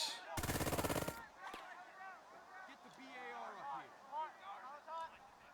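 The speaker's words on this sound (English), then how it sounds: "We will go ahead and shoot at" Burst of rapid automatic gunfire in the World War II tactics game Burden of Command, a dense loud volley lasting under a second, followed by scattered faint shots and a voice talking.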